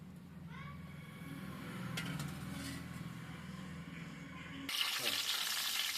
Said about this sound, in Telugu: గిన్నె పెట్టుకుని ఆయిల్ పోసుకుంటున్నాను.